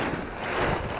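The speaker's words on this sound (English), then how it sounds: "but it's windy" Wind buffets a microphone in a steady, rough rush, with no voices, a broad blowing noise that fills the moment.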